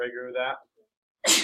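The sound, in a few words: sneeze in a classroom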